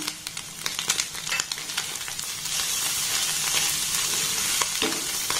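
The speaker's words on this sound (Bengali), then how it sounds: "এবার আমি সমস্ত উপকরণের সাথে এটাকে আমি খুব ভালোভাবে কিন্তু এইভাবে মিক্সড করে নেব" Ingredients for a snack of egg and wheat flour are stirred together in a pan. Rapid clicking scrapes of a utensil sit over a continuous soft sizzle that grows steadier and fuller toward the end, with no one talking.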